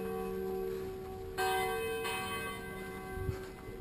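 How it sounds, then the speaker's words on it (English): Church bells ring out from a distance in the Alps near Lake Como, their sustained tones layering and overlapping, fairly faint against a quiet outdoor background. "Just hear the bells ringing."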